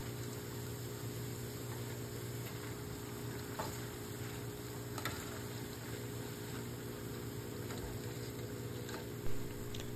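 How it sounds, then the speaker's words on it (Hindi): Vadas frying in medium-hot oil in a kadhai give a steady, even sizzle that holds at low level throughout, with a faint clink near the end. "तो यहाँ पे कढ़ाई में तेल डाल दिया है तेल जब मीडियम हॉट हो गया है तो मैं यहाँ पे वड़े जो है फ्राई कर रही हूँ"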